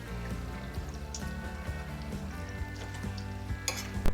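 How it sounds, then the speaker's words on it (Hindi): Layered khasta kachoris fry in hot oil with a steady, busy sizzle, close up, broken by light clinks and stirring knocks of a utensil against the pan. "और भी फ्राई होने के लिए डाल देते हैं।"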